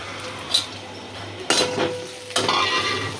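Shrimp, potato and onion fry in oil with a soft, steady sizzle while a utensil stirs and clinks against the pan in three distinct bursts.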